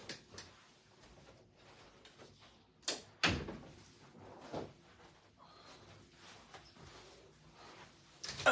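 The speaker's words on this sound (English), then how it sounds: "I got to go close my door" A door closing at home, heard through a few scattered knocks and thuds, one sharper bang standing out amid otherwise quiet room sound.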